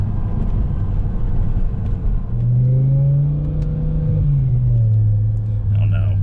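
BMW E60 M5 with the S85 V10, freshly rebuilt bearings, revving hard up through the range in a loud rising howl that holds near the top, then eases back slightly.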